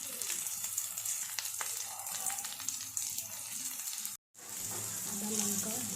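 Pieces of mutton fry in a pan with a continuous close sizzle and spatter, briefly cut off by a short gap before the hiss resumes, faint and without talk.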